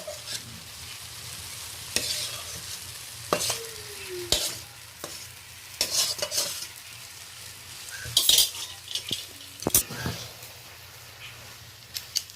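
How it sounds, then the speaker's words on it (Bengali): A spoon stirs boiled dal into young kalmi greens and potatoes cooking in a pan. Intermittent scrapes and clinks of metal on the pan ring out over a low, steady sizzle, close up and with no talking. "শাকের সাথে ভালো করে মিশিয়ে নিচ্ছি।"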